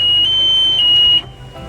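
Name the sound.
warning alarm of a boat power tower lowering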